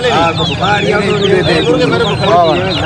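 Chickens and roosters clucking and squawking at a busy livestock market, a loud, dense chorus of overlapping calls from several birds close by, with people talking in the background.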